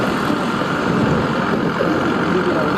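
A company truck's engine rumbles steadily while riding on top of the truck through a market area. The broad droning noise is loud and unbroken, mixed with wind.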